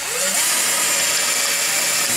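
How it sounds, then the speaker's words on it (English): Power drill boring a guide hole through wood while framing a fiberglass subwoofer box for a 12-inch speaker; a steady, loud, close whirring grind runs continuously without pause. "I'm gonna drill out for the guide hole in your"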